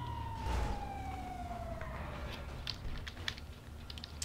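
Police car siren in GTA V (FiveM), a wailing tone sweeping downward and growing nearer, sounding over low engine rumble and street noise.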